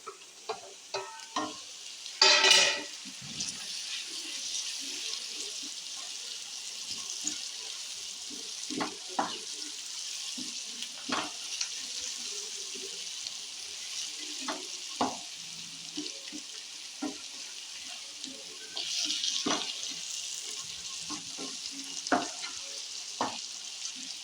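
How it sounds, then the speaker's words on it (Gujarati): Tomatoes hit a hot pan while cooking tuver totha, a pigeon pea dish, giving a steady close sizzle with scraping stirs and light clicks throughout, louder bursts near the start and again toward the end. "હવે નાખશું ટામેટાં"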